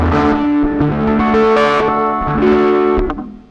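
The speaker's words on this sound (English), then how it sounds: "So today we're going to talk a little bit about slide guitar in open E tuning." Electric slide guitar in open E tuning, with chorus and echo-tinged effects, plays gliding notes that smear between pitches over a ringing major chord, loud and up close, alone for a few seconds before fading.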